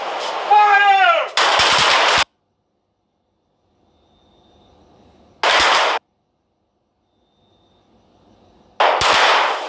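Gunfire at a shooting range: rapid bursts of automatic fire, each lasting under a second, separated by long quiet stretches with faint background sound.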